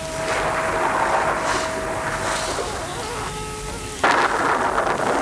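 Thunder rumbles over steady rain from gathering dark clouds above a valley path, a continuous wash of rainfall with a louder burst of thunder breaking in near the end.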